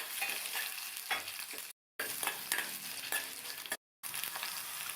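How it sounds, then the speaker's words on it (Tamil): Green chillies and peeled ginger sauté in a pan for a breakfast chutney, giving a dense, even sizzle with occasional stirring scrapes, close up, broken twice by brief silent gaps. "1 இன்ச் அளவுள்ள இஞ்சி தோல் சீவினது அதையும் சேர்த்து வதக்கிக்கணும்"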